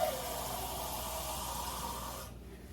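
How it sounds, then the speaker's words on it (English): Water pours steadily into an Instant Pot holding oxtail stew, making a continuous close hissing rush that cuts off abruptly near the end. "Just go ahead and add a little water so that your meat is pretty much covered."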